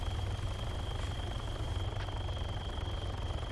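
A helicopter takes off in the video game Arma 3 (Altis Life), giving a steady, loud low rotor and engine drone that holds constant throughout, with no talking.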